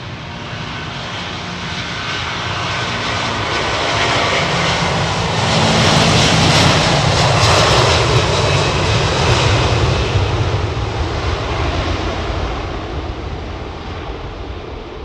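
A departing jet airliner's engines roar loudly and continuously at London Heathrow Airport, swelling to a peak midway and then easing slightly, with no voices present.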